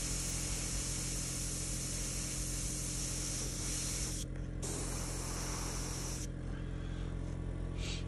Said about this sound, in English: Might add a few signature ILM blasts by holding the airbrush close and just lifting it off.